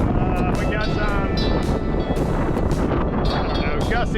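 Strong gusting wind from Hurricane Helene buffeting a boat at anchor, a loud, continuous roar with whistling rigging tones and rushing air, while someone talks over it.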